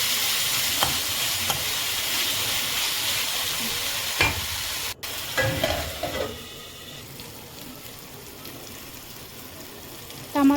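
Tomatoes and ginger garlic paste stirred in a hot frying pan give a steady close sizzle with a few scraping strokes and clinks, fading to a softer hiss.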